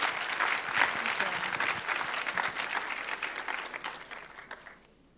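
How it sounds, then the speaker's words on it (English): Audience applauding at a medical school welcome program, a dense burst of clapping that swells early, holds steady, then thins and fades out over the last second. "Give them a warm round of applause"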